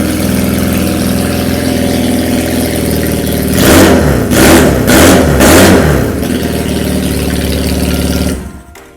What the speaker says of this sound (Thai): เดี๋ยวเราไปฟังเสียงท่อกันก่อนเลยดีกว่า